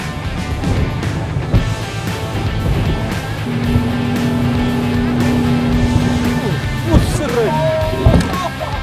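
A Finval 595 FishPro boat powered by a Mercury F200 V6 outboard runs through waves with a steady engine drone, water slapping and rushing against the hull, wind noise, and a voice speaking over it.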